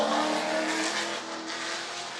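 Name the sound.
1968 Ford Mustang race car engine with V8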